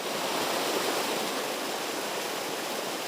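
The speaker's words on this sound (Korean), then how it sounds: "겨우내 적막했던 산속 계곡도 시원스런 물소리로 봄이 왔음을 알립니다" A mountain valley stream in spring rushes steadily, filling the air with a dense, continuous roar of flowing water, heard alone and close at a constant level.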